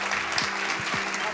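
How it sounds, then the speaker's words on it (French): Applause for Estelle at a French women-in-business event, a brief burst of many hands clapping with a few distinct claps standing out over a steady crowd hiss. "On peut l'applaudir."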